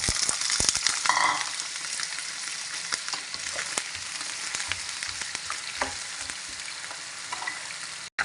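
Potatoes dropped into hot oil in a pan fry with a loud, continuous crackling sizzle, dense pops and spatters running throughout.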